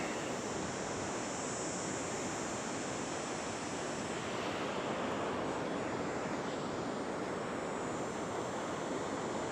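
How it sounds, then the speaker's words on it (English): Ocean waves break along the beach at South Padre Island, a continuous broad roar of surf mixed with wind rush, steady and unbroken throughout. "But here's the beach"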